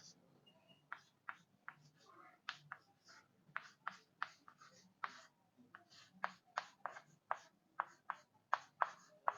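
A pen scratches out a diode bridge circuit diagram by hand, giving a steady series of short, crisp strokes and taps, close but fairly quiet, with brief gaps between marks.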